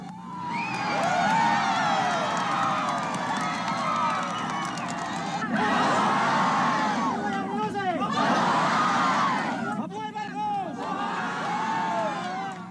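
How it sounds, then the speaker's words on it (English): Crowd cheering and saluting Imelda Marcos in exile in Hawaii, loud excited voices, whoops and shouts in waves, with brief dips between bursts and chatter mixed in. "She was helped onto an old table and the crowd saluted her."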